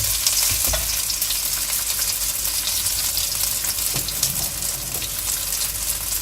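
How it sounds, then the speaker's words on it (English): Cumin seeds splutter and crackle in hot ghee, making a steady, dense sizzle that runs the whole way through with faint stirring clinks, all close and loud. "Ghee has heated up now. I'm going to add in the cumin seeds and let it splutter."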